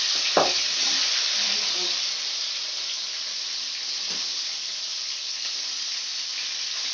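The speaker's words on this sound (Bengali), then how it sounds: "এবার আমি চিংড়ি মাছগুলো ভেজে নেবো।" Prawns frying in hot oil for a Bengali malai curry, a steady loud sizzle that runs the whole time, with a couple of brief clinks from the pan near the start and partway through.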